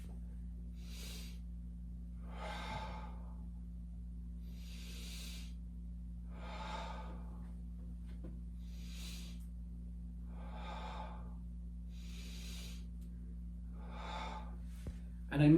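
Slow, deep belly breaths, taught as a technique for wearing body armor, come as about eight long inhale-exhale cycles. Each breath is airy and audible, close to the mic, over a steady low electrical hum, with no talking.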